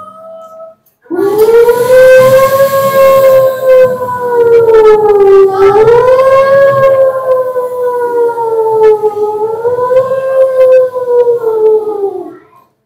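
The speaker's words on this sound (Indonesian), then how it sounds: "tiba-tiba terdengar bunyi sirene bahwa tentara Zionis Israel akan menyerang kota Gaza" A loud wailing air raid siren in Gaza City, warning of an attack, rises and falls slowly, sustained for over ten seconds, starting abruptly after a brief quiet moment.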